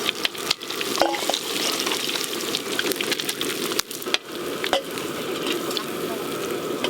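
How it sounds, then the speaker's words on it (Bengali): Fish heads sizzle and crackle steadily in hot mustard oil, with occasional sharp clicks and scrapes of a utensil in the pan. "মাছের মাথাগুলো খুব ভালো করে ভাজা হয়ে গেছে একদম করকরে করে ভেজে নিয়েছি"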